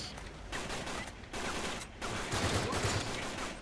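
Sustained gunfire from blind-firing in the video game Uncharted 3, a dense, continuous burst of shots at moderate level running through the whole stretch with brief dips between volleys.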